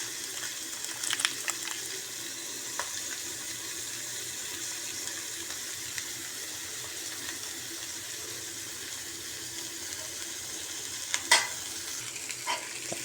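Bitter gourd (ampalaya) and egg frying in a pan, a soft continuous sizzle broken by occasional light scrapes and clinks of stirring, close and fairly quiet.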